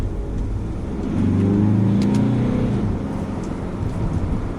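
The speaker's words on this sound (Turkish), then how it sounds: "şöyle bir gaza oturayım ikinci viteste bakalım ne yapacak" A motorhome pulls hard in second gear on a riverside road, its engine drone rising steadily in pitch as it accelerates, loud and close inside the cab with wind and road noise beneath.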